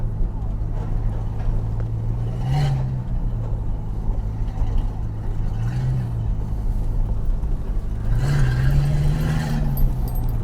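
Dodge Dart with a three-speed automatic running just above idle, a steady low engine drone with brief rising swells, heard continuously from up close inside the car.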